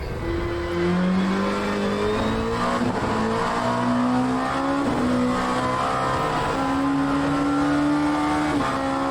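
A prototype race car laps a track in a sim racing game, its engine a loud, constant whine that climbs and drops in pitch through gear changes and corners, with no pauses or talk.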